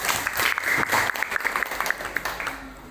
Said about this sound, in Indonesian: Tepuk tangan dulu buat Mutia